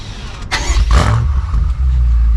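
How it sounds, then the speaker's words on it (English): A 2023 BMW M8 Competition is remote-started from the key fob: a short starter whir, then the engine catches with a loud close flare and settles into a steady deep idle rumble. "I just have to triple tap the button on the key fob there, and this will fire right up"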